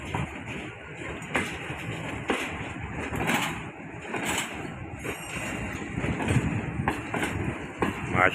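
Green Line passenger train slowly pulling away from Rohri station, a steady rumbling rolling noise with rail clanks and clicks, heard close from on board or beside the cars.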